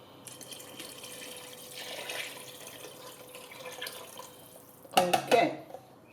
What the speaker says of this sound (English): You can add the water